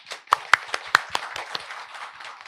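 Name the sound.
audience applause at presentation event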